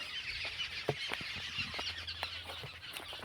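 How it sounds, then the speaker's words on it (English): Faint bird chirps and calls come from a distance in a wild forest over a quiet outdoor hush, scattered and irregular. "And you can feel the chirping of birds."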